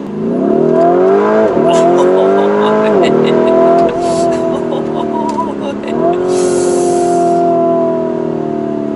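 A Lamborghini Urus SUV engine revving hard through several rising pulls, loud and close, with brief dips between gear shifts and someone talking over it.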